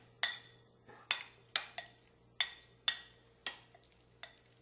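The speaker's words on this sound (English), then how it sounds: "So just stir this one up." A spoon clinks sharply against a bowl while ingredients for a chicken peanut sandwich are stirred, about eight distinct clinks in an uneven rhythm over a faint steady hum, close and fairly quiet.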